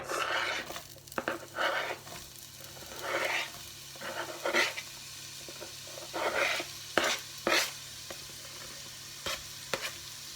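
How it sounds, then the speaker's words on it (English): Chopped onions dropped into a pot of warm olive oil, giving soft intermittent sizzling and stirring scrapes in bursts over a low steady background, fairly close with no talk. "First go in the onions."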